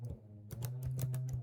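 Typing on a computer keyboard while filling in a Google Sheet, a quick run of close, crisp key clicks in uneven bursts over a steady low hum.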